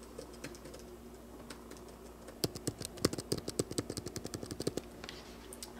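Keys clacking on a Logitech keyboard case for an iPad, a quick run of crisp, close taps that starts after a brief pause and keeps a fairly even rhythm over a faint background hum.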